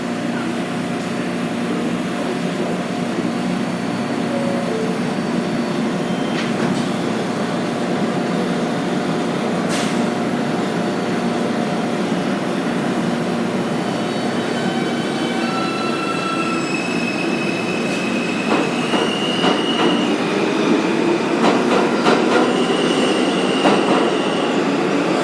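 R160A-2 F local subway train at Woodhaven Boulevard station, a close, sustained rumble of cars rolling through, with sharp wheel squeals rising and fading and a few clacks.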